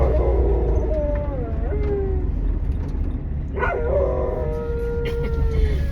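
A dog whines and howls steadily over several seconds, rising and falling in long wavering cries, fairly close, with a constant background hum throughout.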